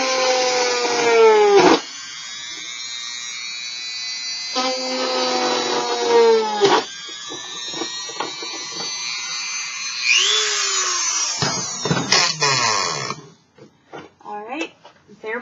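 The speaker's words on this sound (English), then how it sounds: "Right now I'm using a Dremel" A Dremel rotary tool bites through plastic in several whining bursts, its pitch sagging under load and recovering between cuts, loud and close with brief pauses before it fades out.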